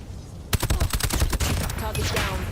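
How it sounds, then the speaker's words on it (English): A rapid burst of gunfire in Call of Duty: Mobile, dense sharp shots crackling for about two seconds over a busy background. "Good gunfire from Jez."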